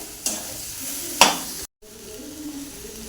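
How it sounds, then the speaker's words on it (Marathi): Ground chana dal besan mixture stirred and fried in oil in a pan, a close hissing sizzle with a couple of sharp spoon scrapes, a brief cut to silence, then the sizzle resumes. "आता हे वाफून घ्यायचं चांगलं मिक्स करूया"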